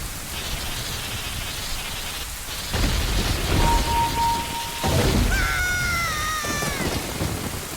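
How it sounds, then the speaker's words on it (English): A thunderstorm in the Ocarina of Time video game, set off by playing Zelda's Lullaby: steady hissing rain with low rumbling thunder swells, and a few sustained melodic game tones ringing over the downpour. "Playing Zelda's Lullaby triggers a storm"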